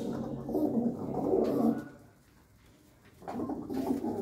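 Pigeons coo in a loft of high-flying birds in Mannu, Ludhiana, their soft, rolling calls overlapping close by, dipping into a brief lull before resuming.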